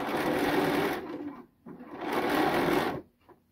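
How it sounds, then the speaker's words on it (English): A sewing machine edge stitches a shirt sleeve cuff in two bursts of fast, close, steady whirring, each about a second and a half, separated by a brief pause. "So this is the top stitching or edge stitching of the cuff."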